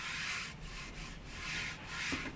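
Soft, close 320-grit sandpaper strokes rub back and forth across a wood cabinet finish, a quiet hissing scratch repeating in a slow, even rhythm.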